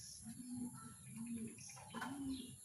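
A racing pigeon coos softly and close by, with three low, throaty coos in quick succession over faint background chirps.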